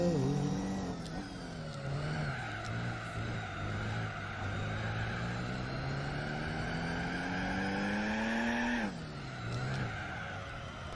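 The Mini Marcos GT race car engine in Gran Turismo 4 drones steadily during a long endurance race. Its pitch rises slowly as it accelerates, then drops sharply at a gear change or braking, with faint tire noise underneath.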